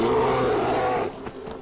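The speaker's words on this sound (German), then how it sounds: "Ein Bär!" A bear in the fantasy video game Enderal lets out one loud, close, growling roar that holds steady and then tails off into a rougher, quieter rumble.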